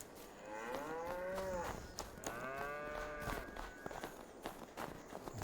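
Cattle moo repeatedly in Farming Simulator 22, long drawn-out calls overlapping one another over a steady game ambience, with soft footstep-like thuds and no talking.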